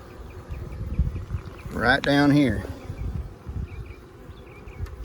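Honey bees from a swarm being caught in a back yard buzz steadily nearby, with a louder close pass of buzzing near the middle. Someone speaks briefly over the buzzing.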